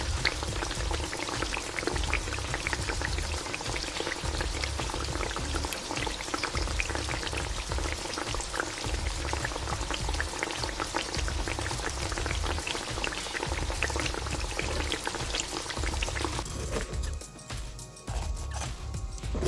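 Rice cooking in a pot on a stove at dawn, a steady close bubbling boil with dense crackling texture, constant for most of the stretch before thinning out near the end.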